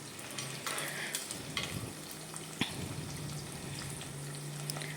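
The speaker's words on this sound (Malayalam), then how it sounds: "രണ്ട് സവാള ഞാൻ അരിഞ്ഞ് എണ്ണയിലേക്ക് ചേർത്ത് കൊടുത്തിട്ടുണ്ട് നമുക്ക് നന്നായിട്ടൊന്ന് വഴറ്റിയെടുക്കണം" Sliced onions sauté in oil in a pan, giving a steady crackling sizzle throughout with a few scraping stirs and light clatters, with no talking.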